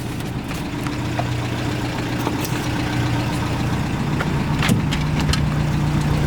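A 1980 Toyota pickup 4x4 engine runs at a steady low rumble, close and continuous, with a few faint clicks and knocks over the drone.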